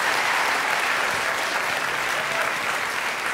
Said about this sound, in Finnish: Annetaan vielä aplodit Peter Nybergille.